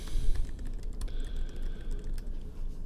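Computer keyboard typing on a Mac, a name being entered: quick, uneven runs of soft keystroke clicks, close and fairly quiet, with no voices.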